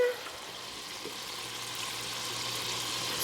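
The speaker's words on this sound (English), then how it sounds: "I have my butter melting in the pan" Butter melting in a pan while making homemade mac and cheese gives a soft, steady sizzle and faint crackle, low and continuous throughout.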